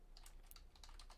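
Quick, light clicks from a computer keyboard being typed on, a brisk irregular patter of keystrokes heard alone over a soft background hiss.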